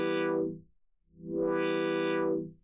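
Synth tone run through Logic Pro X Step FX stepped filter: two bright buzzy swells, each sweeping open then closed, the second longer, separated by a brief near-silent gap, loud and alone.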